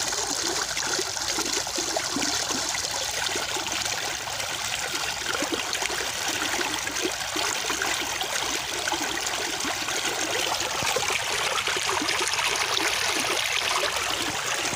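Steady, loud rush of water flowing fast through a channel at night, continuous and broadband throughout, with no voices.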